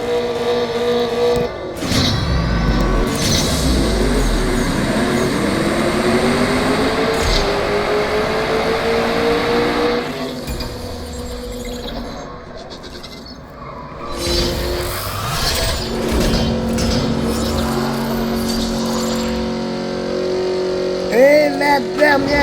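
A Shelby GT500 races in a video game, its engine roaring and rising through revs, then dropping back and building again amid game music and effects, loud and continuous.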